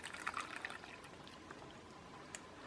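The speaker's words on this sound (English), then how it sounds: "So I'm just going to go ahead and pour some water in here." Water pours from a bucket into a small mini washing machine used for makeup sponges and brushes, a short splashing, gurgling stream that fades to a quieter trickle.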